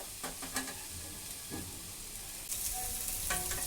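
Capsicum and beans frying in a pan, a steady broadband sizzle with a few soft stirring scrapes, growing slightly louder and brighter toward the end, close and with no talk.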